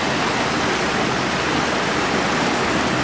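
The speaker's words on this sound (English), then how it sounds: "And on this side, water pouring through the infrastructure." Stormwater pouring out through drainage outlets, a loud, steady broadband rush of water that holds constant with no pauses and no voices.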